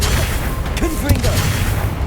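A Confringo fire spell blasts in Hogwarts Legacy, giving dull booming impacts over a steady rumbling game soundscape, with brief vocal sounds in the middle.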